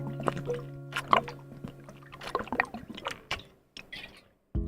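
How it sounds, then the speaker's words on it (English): A person drinks water in a quiet room, making a few soft gulps, slurps and liquid sloshes, close and intermittent, with brief pauses between sips. "Sorry, drinking water."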